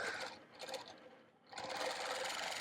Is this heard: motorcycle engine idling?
no